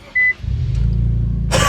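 Infiniti Q60 starting up from inside the car with a newly installed exhaust: a short electronic beep, then the engine catches into a deep, loud rumbling idle that swells near the end.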